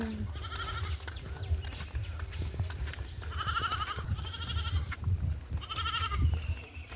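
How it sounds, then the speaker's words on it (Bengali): An old goat bleats three times in an outdoor garden setting, each call a short wavering cry at steady loudness over constant background noise, with no talking. "এটা বুড়ো ছাগল।"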